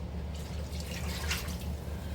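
Water being poured into a crockpot of healthy chicken enchilada soup with shredded chicken, a short, steady liquid pour with dripping, close and alone.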